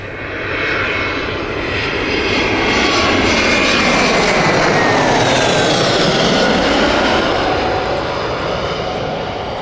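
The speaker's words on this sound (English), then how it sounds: "Here comes British Airways" A British Airways airliner passing at Gatwick Airport, jet engines swelling to a loud roar with a Doppler-like pitch sweep, then easing slightly, with no speech.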